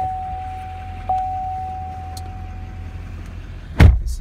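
A 2015 2500 truck idles steadily after a jump start, a low even engine hum with a thin whine held over it, ending in one louder clunk near the end.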